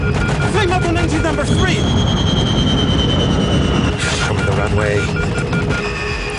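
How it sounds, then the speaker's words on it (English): A dense, steady roar of large jet airliner engines shutting down on a runway, with tonal whines, sliding pitches and mechanical clatter, slowly easing off toward the end; a voice talks faintly underneath. "The passengers can hear the sound of the engines beginning to shut down."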